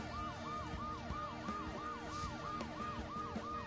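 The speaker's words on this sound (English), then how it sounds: "In spite of the noise I made breaking the glass and the ambulance's deafening siren" A wailing siren sweeps up and down in a steady repeating cycle, loud and continuous over a low engine rumble.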